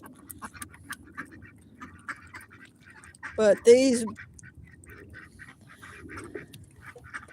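On a farm, ducks give one short, loud burst of quacking midway, close by, between stretches of quiet talk and faint background noise.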